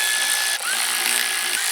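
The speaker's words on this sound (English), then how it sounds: "And then you just tighten up these bolts back here." Bolts are run down on the water pump of a Massey Ferguson tractor engine with a high, steady power-tool whir, briefly interrupted, at close range.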